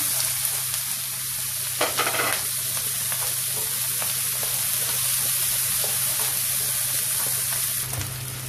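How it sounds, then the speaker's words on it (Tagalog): Onions sautéing in oil left over from frying fish, a close, dense, continuous sizzle with brief bursts of stirring throughout and no talk. "Dito sa pinagprituhan, dito na rin natin gigisa yung sibuyas natin."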